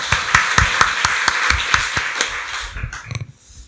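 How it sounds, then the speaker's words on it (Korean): A church congregation at a Sunday worship service claps in a steady, even rhythm, with sharp close hand claps that thin out and fade near the end. "박수로 하나님께 영광 돌리겠습니다"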